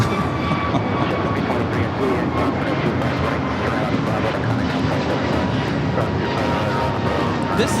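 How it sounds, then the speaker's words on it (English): An American Airlines A321neo, bound for Dallas-Fort Worth, takes off at LAX with a dense, steady jet roar. The noise holds throughout, mixed with wind and distant background sound. "2882 taking off to a hot Dallas-Fort Worth on the A321neo"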